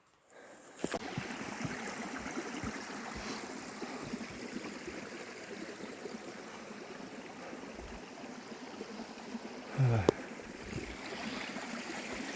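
A small creek flows with a steady, soft broadband rush that fills the whole stretch, plus a few faint splashes and one brief nearby knock near the end.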